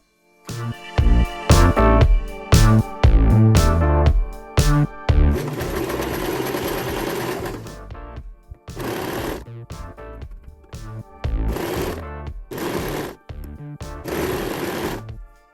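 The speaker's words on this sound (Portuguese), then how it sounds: "agora eu venho costurando, seguindo aqui o decote" Sewing machine stitching along the neckline of a tank top, running in loud bursts of rapid stitching separated by short pauses, close and alone.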